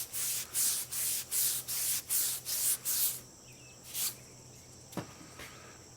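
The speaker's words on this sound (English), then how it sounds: "Scotch-Brite." Scotch-Brite pad scrubbing a slightly rusty part in rhythmic back-and-forth strokes, about eight quick rasping passes close up, followed by a quieter pause with a couple of lighter rubs.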